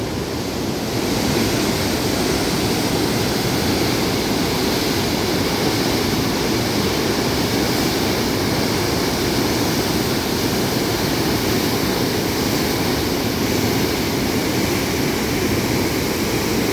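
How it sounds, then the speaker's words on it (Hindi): Water gushes through a sluice gate at Mohammadganj Bridge in a loud, continuous roar, a steady broadband rush with no pauses and no voices heard. "पानी किस तरीक़ा से फाटक से निकल रहा है।"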